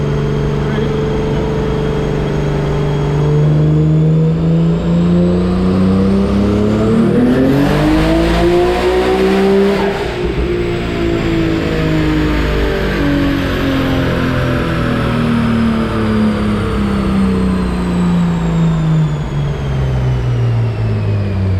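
A car fitted with a 6670 NextGen turbo roars on a dyno in one long, loud pull, the engine note climbing to a high scream with a sharp turbo whine before winding down, while people talk and shout nearby.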